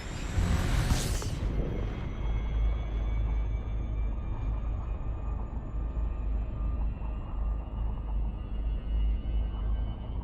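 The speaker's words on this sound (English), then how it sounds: "Frameshift drive charging." Elite Dangerous frame shift drive engaging in a space game: a sharp rising whoosh near the start gives way to a loud, steady low roar and rumble that holds for the rest of the stretch, with no talking.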